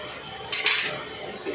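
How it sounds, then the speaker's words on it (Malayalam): Onions being stirred with salt in a pan: a close, brief metallic scrape and clink of a utensil against the pan, with a second light tap just after. "ഉപ്പ് ചേർത്തിട്ട് നല്ലപോലെ ഒന്നും കൂടി ഒന്ന് ഇളക്കി കൊടുക്കുക."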